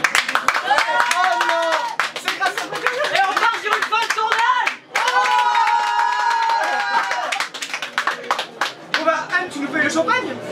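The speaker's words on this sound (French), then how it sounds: "On s'applaudit." A small group claps and cheers at the close of a festival gathering, with scattered hand claps mixed with lively voices, whoops and chatter, fairly close and uneven in loudness.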